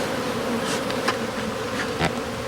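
A honeybee swarm buzzing in flight during a swarm rescue, a dense steady drone of many bees close by, with individual bees zipping past.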